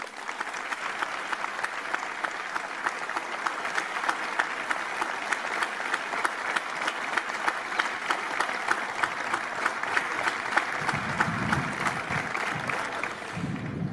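Concert audience applauding the Villar musicians at a festival homage concert, sustained crowd clapping with an even, rhythmic pulse throughout, moderately loud, and a few low murmurs or rumbles near the end.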